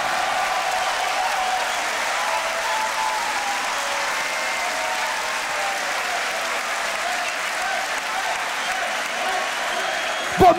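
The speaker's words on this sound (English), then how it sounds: "Give it up for Frosty!" At the Grand Beatbox Battle 2021 quarter final in Warsaw, a crowd applauds and cheers a beatboxer in a long, steady roar that stays even throughout and ends with a brief thump.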